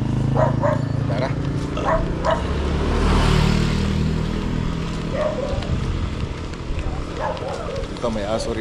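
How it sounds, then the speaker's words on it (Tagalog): A dog barks a few times in the distance over steady outdoor rumble and people talking nearby. "Ito may aso rito."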